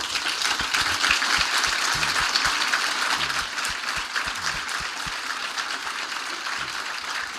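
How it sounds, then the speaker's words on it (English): A live audience at a question-and-answer interview with Yanni keeps up dense, sustained applause that fades only slightly toward the end. "why don't you all just keep giving yourselves an applause"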